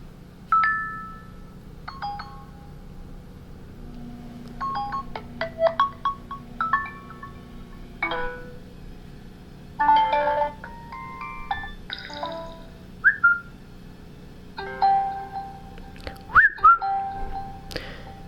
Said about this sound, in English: those are the tones, or notification sounds